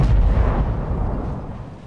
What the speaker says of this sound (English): There you go, the first volleys of artillery off.